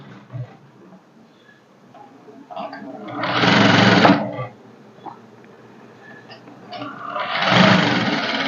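A sewing machine stitches a blouse lining in two loud, close bursts of fast mechanical whirring. Quiet handling noises and a voice fill the pauses between runs.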